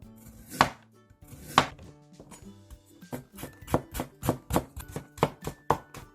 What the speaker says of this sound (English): Then I'll slice carrot like this